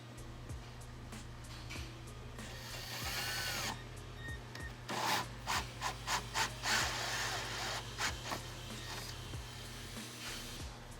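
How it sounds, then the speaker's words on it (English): A power drill bores a hole through metal in the engine bay of a 2018-or-later Ford F150, whining in short bursts and pulses over a steady low background hum, close and fairly loud. "so I'm gonna drill a hole and then route the hose"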